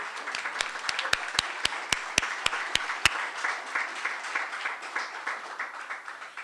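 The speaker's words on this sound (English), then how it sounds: "Applause for Alikia." Moderate audience applause at a political congress plenary, a steady patter of clapping under crowd murmur, punctuated by a run of sharp, evenly spaced loud claps early on.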